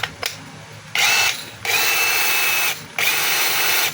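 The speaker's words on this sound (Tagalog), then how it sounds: "Testing natin yung hammer, drill, screw." A DeWalt DCD7781 cordless hammer drill whirs in three bursts, a short one and then two longer runs, loud and close with brief pauses between.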